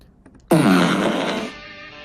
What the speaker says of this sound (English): the farting sound is enough to make you stop scrolling